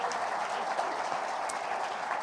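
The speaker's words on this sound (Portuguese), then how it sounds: "Vamos aplaudir Jesus" Churchgoers at a Sunday celebration service applaud in a steady, moderately loud wash of clapping with no break.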